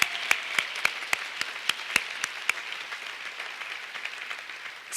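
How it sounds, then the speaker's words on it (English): A university fall convocation crowd gives the awardees a round of applause: sparse, distinct sharp claps at first over a soft bed of clapping that thins out by the end. "let's just do one more wonderful round of applause for all the awardees."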